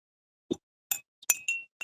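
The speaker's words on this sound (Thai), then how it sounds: "ก็คนคนคนให้เข้ากัน ให้น้ำเข้ากันนะคะ" A spoon stirring a little water in a glass with dry rice, giving several short bright clinks spaced apart and one brief ringing tone, close and clear against silence.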